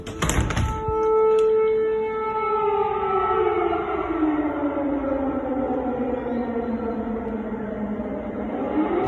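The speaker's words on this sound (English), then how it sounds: "Once I recall the siren started when we were talking." A loud air raid siren in Ukraine winds up to a sustained wail, then slowly falls and wavers, filling the clip after a couple of sharp thumps at the start.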